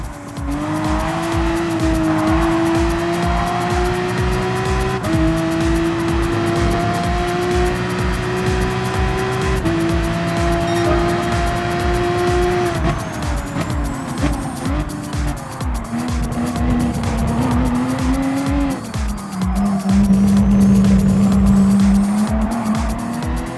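Race cars in Gran Turismo Sport, including a Porsche 911, roar continuously with rising and falling engine pitch as they shift through gears, while tires squeal and skid through corners, loud and close with no talking.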